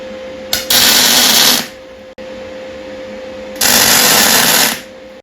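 Two bursts of tack welding join pipe to a new stub axle for a Motostandard 1010, each a loud, harsh crackling hiss lasting about a second over a constant electrical hum.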